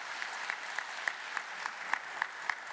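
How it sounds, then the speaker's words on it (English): Applause at a university commencement ceremony, a thin, sparse scattering of distinct claps with a gentle wash of clapping beneath, fairly quiet and heard from a distance in a large hall. "so let's give her a round of applause in absentia."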